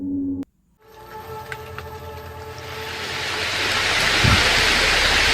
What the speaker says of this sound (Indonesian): Loh, kok tiba-tiba hujan?